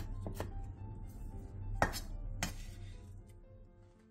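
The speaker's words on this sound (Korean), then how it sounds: "청양고추 2개와 홍고추 2분의 1개를 길게 반으로 가른 뒤 쫑쫑 썰어주세요" Knife chopping halved Cheongyang and red chili peppers on a cutting board, a few sharp clicking strokes spaced out over a steady low kitchen hum, close and moderately loud.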